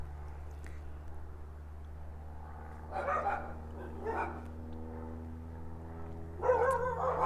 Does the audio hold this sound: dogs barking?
yes